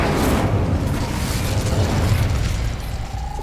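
The Incendio fire spell cast in the video game Hogwarts Legacy, a loud, sustained roaring whoosh of flame with a rumbling low body that holds steady, then eases off slightly at the end.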